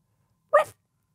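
A man imitates a dog with his voice, giving a single short, sharp bark in an otherwise quiet room.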